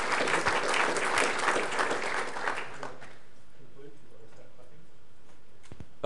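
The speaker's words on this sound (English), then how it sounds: "I think you heard the claps" Conference audience applause follows a talk on shared repository services, with dense clapping for about three seconds that then stops abruptly and leaves a quiet room with a few faint ticks.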